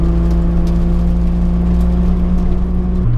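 A Nissan 300ZX with a 2JZ engine driving along a road, its engine humming steadily with a loud, even whir of road noise, the tone dropping slightly near the end.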